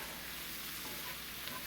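Food sautéing in a pan for a mushroom and garlic sauce to go with Salisbury steak, giving a soft, even sizzle that holds steady without pause and sits faintly in the background.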